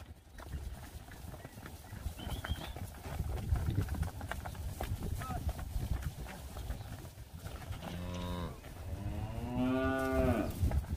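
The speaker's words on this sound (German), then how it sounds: "wir müssen jetzt hier warten, bis die Kühe auf der Weide sind" Cattle on a pasture in rural Northern Ireland give two loud, drawn-out moos near the end, after a stretch of wind and faint rustling outdoors.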